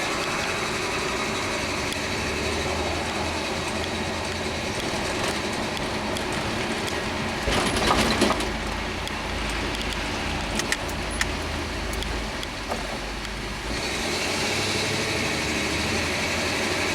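A 1984 Chevy truck drives along, its engine running in a steady low drone with road and wind noise throughout, no talk.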